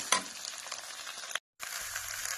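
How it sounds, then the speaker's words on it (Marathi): Potato pieces with salt fry in a pan for sabudana khichdi, giving a steady close sizzle with a brief stir at the start and a short silent break midway. "आता मस्त ह्याला फ्राय करून देते"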